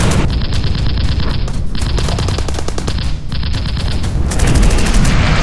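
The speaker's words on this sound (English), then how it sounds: "The bombs strike the parked aircraft, obliterating them with massive explosions" Dense, continuous battle noise with rapid bursts of gunfire and heavy booming blasts as bombs strike parked aircraft, loud and close, with no voices.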